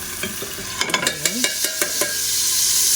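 Onions drop into a pot for macaroni soup and sizzle in hot oil while a spoon scrapes and clinks against the pot in a quick run of strokes, then the frying settles into a steady hiss.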